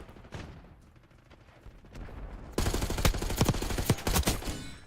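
Video game shooter gunfire, a few scattered shots at first, then a dense, loud run of rapid bursts in the second half, with no talk over it.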